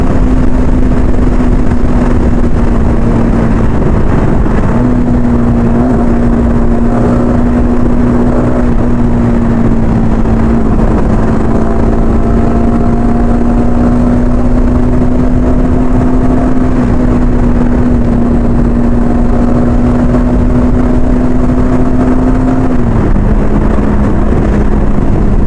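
A motorcycle engine drones steadily throughout a ride toward a bridge, holding a constant hum with a slight pitch shift near the start and again near the end, loud and close with no talking.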